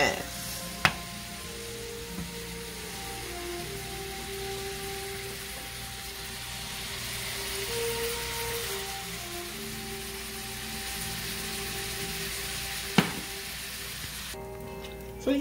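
Chicken fried rice sizzles steadily in a wok, a continuous crackling hiss with a couple of sharp clanks of a utensil against the pan, faint talk underneath.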